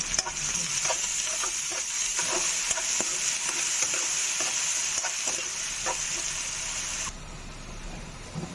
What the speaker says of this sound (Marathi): थोडस मीठ टाकून घ्यायचं कांद्यामध्ये लवकर भाजला जातो कांदा